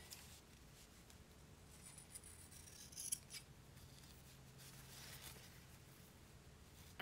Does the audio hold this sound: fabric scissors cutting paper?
yes